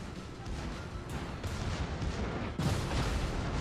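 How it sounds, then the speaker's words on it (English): Secondary battery guns of warships firing during a World of Warships naval battle, with a tier 5 IJN ARP Kongo battleship in the fight: a dense, continuous rumble of overlapping booms that grows louder and heavier toward the end. "Secondaries are going off on both of us"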